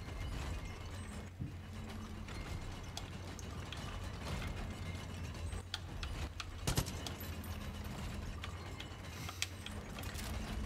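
A target gallery mechanism runs after a lever is pulled in Far Cry New Dawn, giving continuous low mechanical grinding and clattering with scattered clicks and creaks at moderate, steady loudness.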